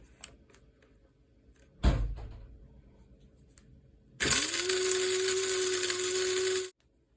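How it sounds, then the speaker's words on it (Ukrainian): After a couple of knocks and clunks, a blender grinding dried tomatoes whirs loudly at high speed for a couple of seconds, then abruptly cuts off. "Далі я буду їх молоти в блендері"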